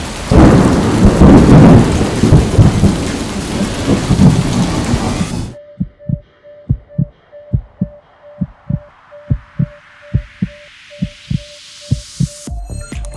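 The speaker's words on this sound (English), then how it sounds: "it wasn't supposed to be stormy today" Rain and a rumbling thunderstorm roar for about five seconds, loud and dense, then cut off abruptly to a steady series of low, regular thumps.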